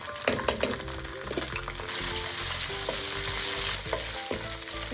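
Fresh green turmeric paste fries in a wheat dalia tarka, with a soft, steady sizzle and repeated spoon scrapes and knocks against the pan, close and fairly quiet, no speech.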